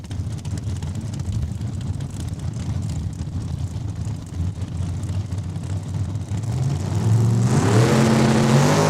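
At a drag strip, a 1967 Chevy II and a 2016 Dodge Challenger race, heard as a sustained roar of engine and wind noise that swells into a louder, rising rev near the end.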